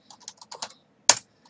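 A handful of keys tapped on a computer keyboard, several light clicks in an uneven run followed by one sharper, louder keystroke and a final soft tap, close and alone in silence.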